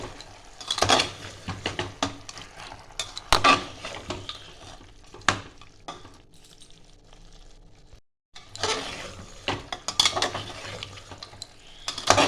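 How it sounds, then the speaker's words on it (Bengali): Fried potatoes are stirred into mutton curry in a pot, with bursts of scraping, clattering utensil strokes and a soft bubbling sizzle, separated by a brief quiet gap before the stirring resumes. "এবার দিয়ে দেবো আমি ভেজে রাখা আলু, দিয়ে একটু নাড়াচাড়া করে নেব"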